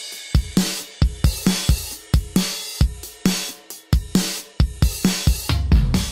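A stereo drum kit with kick, snare, toms, hi-hats, ride and crash cymbals plays a steady, punchy groove, sharp close hits repeating about every half second over ringing cymbal wash, with no voices.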